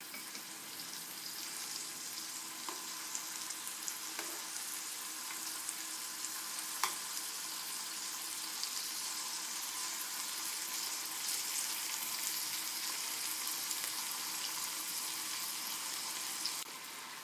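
Steady, loud sizzling of chicken frying in an aluminum pan, a constant crackling hiss with occasional small pops, continuing without talk.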